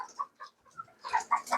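A Sumatran chicken, a third-generation crossbreed kept among birds for sale, gives a string of short, close chirping calls, sparse at first and then quicker and louder toward the end, with no talking over it.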